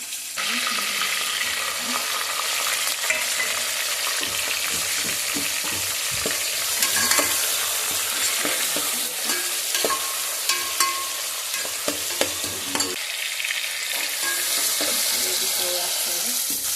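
Masala of cardamom, black pepper, curry leaves and mustard seeds dry-roasting in a pan for a special egg biryani, with a steady loud sizzle and frequent scraping stirs throughout, no talking.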